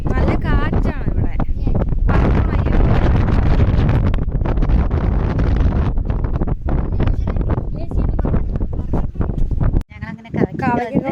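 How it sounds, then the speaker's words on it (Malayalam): Strong wind buffets the microphone at Malampuzha dam, a heavy continuous roar that nearly drowns the scene, with gusts rising and falling and a person talking through it near the end. "നല്ല കാറ്റാണ് ഇവിടെ."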